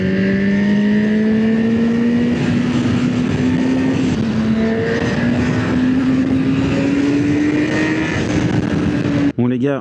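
A 2025 Honda CB1000 Hornet Grand Prix Red on the road, its engine droning loud and close with a slowly rising pitch as it pulls through the gears, wind noise beneath and someone talking over it.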